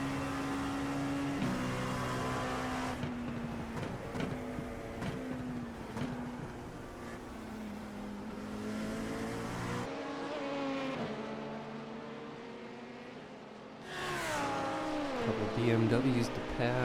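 GT3 race cars roaring through an IMSA sim racing session, a steady engine drone rising and falling through gear changes with a sharp revving surge near the end, while a commentator talks over it.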